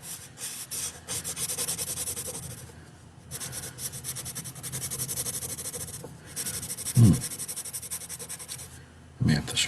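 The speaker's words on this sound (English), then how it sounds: "Maybe it's because I'm coloring bigger spaces with the yellow." Yellow colored pencil rubbing across paper in long, steady scratchy strokes that come in several sustained stretches with short pauses, close and clear, as a person talks quietly between strokes.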